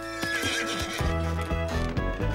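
A cartoon horse in a Paddington Bear western scene whinnies loudly, a long wavering neigh followed by clip-clopping hoofbeats, set against music.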